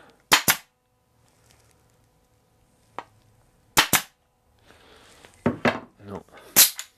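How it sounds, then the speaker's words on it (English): A Paslode US-100 pneumatic upholstery stapler fires onto a scrap piece of wood, sharp snapping cracks in pairs and singles with short silences between, close and loud, with faint rustling handling noise. "It doesn't seem to be firing staples. Let's try it on a scrap piece of wood here."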